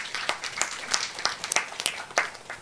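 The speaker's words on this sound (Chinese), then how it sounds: "我们拍手将荣耀归给上帝" A congregation at a Chinese-language Sunday worship service claps together in a steady, rhythmic beat, the crisp claps close and fairly even in loudness.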